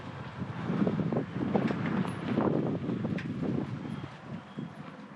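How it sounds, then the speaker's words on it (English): Strong wind gusts across a camp on the edge of the Bunda Cliffs in Australia, with a broad steady roar, fluttering bursts and the sound of a loose awning flapping throughout, and no talking. "I believe the wind has picked up a bit"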